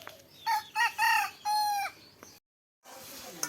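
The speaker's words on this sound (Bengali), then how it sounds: "এই তো সব মুরগিরা এদিকে আছে আমাদের।" Backyard chickens clucking in short bursts, then a rooster's drawn-out crow close by, followed by a brief silence and a low farmyard murmur.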